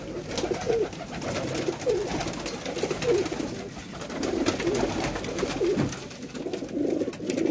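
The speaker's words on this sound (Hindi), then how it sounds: "लो जी कबूतर चेक करो" Pigeons coo repeatedly at close range in a loft, with soft, rolling low calls recurring every second or so over steady background noise. No one speaks.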